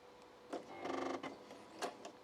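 A sewing machine stitches a zipper pouch through batting, including a short back stitch: a brief run of rapid, even mechanical clatter between softer handling clicks and rustles, close and moderately loud.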